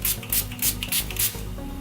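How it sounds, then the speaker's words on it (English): Makeup setting spray from Grad Cosmetics misted over a finished violet smokey eye look in several short, bright hissing bursts, close to the microphone, with no talking. "now I'm gonna spray my makeup setting spray from Grad Cosmetics Clay"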